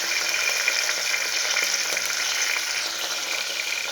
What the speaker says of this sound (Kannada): ಟೊಮೆಟೊ ಚೆನ್ನಾಗಿ ಫ್ರೈ ಆಗಿದೆ ಈಗ ಎಣ್ಣೆಯಲ್ಲಿ